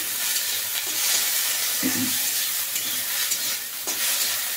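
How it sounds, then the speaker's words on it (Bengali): Chopped raw onion is stirred in a frying pan, a steady close sizzle with soft scraping strokes of the spatula running throughout. "আমি একটু নেড়ে নিচ্ছি"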